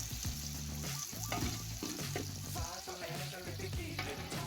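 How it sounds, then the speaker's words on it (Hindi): Five onions fry in a pot for chicken dum biryani, browning to golden in hot oil with a dense, continuous sizzle, while metallic clinks of stirring come and go over it. "इसको मैं अच्छे से ब्राउन करके फिर मैं निकाल लूँगी।"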